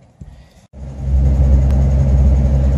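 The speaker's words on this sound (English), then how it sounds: "So you can see now that the engine's warmed up, the choke plate is open more, and when I touch the throttle, it doesn't close" A warmed-up Ford Maverick 250 inline-six with a Carter RBS carburetor, open choke, catches after a brief quiet moment and settles into a steady, loud, close idle rumble.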